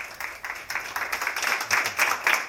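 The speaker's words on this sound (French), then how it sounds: "c'est sous les applaudissements." Staff in a hospital intensive care unit in Mulhouse applaud as a recovered Covid-19 patient leaves, a continuous patter of hand claps rising and falling in waves.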